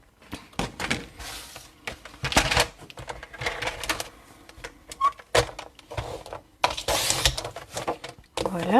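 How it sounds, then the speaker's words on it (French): Close, repeated scraping and slicing bursts from a small paper trimmer cutting sheets, irregular and fairly loud, with a short voice at the end. "on va prendre son petit massicot pour couper le papier"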